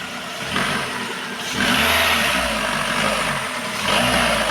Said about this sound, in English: Be sure to add some revs.